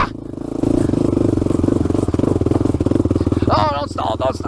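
An ATV engine revs hard and labors through the woods, a loud continuous motor drone with rising and falling strain, mixed with clatter and scraping, while a rider talks over it.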